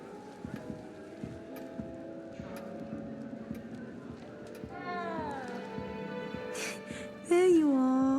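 A cat in Hogwarts Legacy lets out several meows, softer at first and then a louder, drawn-out call at the end, over faint footsteps and background game ambience.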